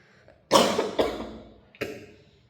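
A person with a sore throat coughs twice, close and fairly loud: a strong burst followed by a second hack, then a shorter cough after a brief pause.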